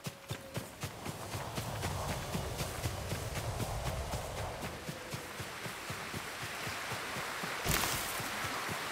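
Horses gallop in the video game Ghost of Tsushima, with steady, rapid hoofbeats drumming close by over a low outdoor rumble and no voices.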